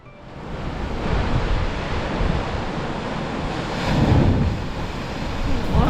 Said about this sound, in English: setting the stage for an ocean geyser called the Spouting Horn